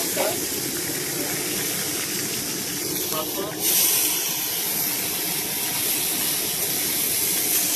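Panch phoron spices sizzle in hot oil for a vegetable chorchori, a loud, continuous hissing crackle close by that holds steady throughout, with brief voices faintly over it.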